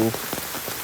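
Heavy rain pours onto the forest trail of Gunung Salak as a dense, steady hiss of drumming drops, loud and close, over a very short stretch.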